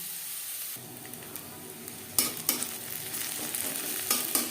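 Onions fry in a large wok-style kadai for a winter vegetable fried rice, with a steady loud sizzle and bursts of spatula scraping and stirring clatter near the middle and end.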